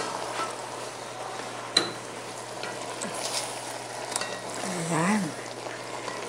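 Chicken asado with liver frying in a pan, a steady close sizzle with occasional scrapes and knocks of stirring, and a voice speaking briefly near the end.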